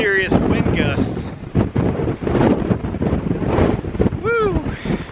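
Strong wind gusts on a hiking trail through a fire-burned area, roaring loud and close against the microphone with buffeting bursts, while a voice briefly whoops over it.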